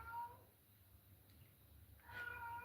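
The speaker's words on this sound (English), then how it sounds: "Oh my God, there's a cat." A cat meows twice, once at the start and again near the end, faint and distant against quiet room noise, with no speech.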